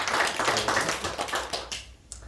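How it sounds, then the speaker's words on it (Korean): A church congregation applauds at a Korean children's Sunday and 70th anniversary service, a dense burst of clapping that thins out toward the end. "이분들 위해서 우리 큰 박수 하도록 하겠습니다"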